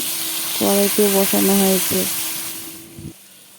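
Catla fish fries in oil in a wok, giving a steady bright sizzling hiss, while a voice hums or talks in the foreground before the sizzle fades slightly.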